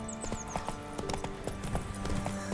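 Roach the horse gallops in The Witcher 3, a quick steady clip-clop of hooves under game music and ambient effects, with a faint neigh and no talk.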